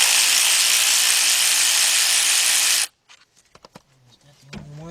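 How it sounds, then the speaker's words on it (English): A 3/8 drive ratchet works a bolt on a 1991 Toyota Corolla 1.6, giving a short run of quick, close clicks right after a loud, steady hissing noise cuts off. "Let's get this bolt off right here."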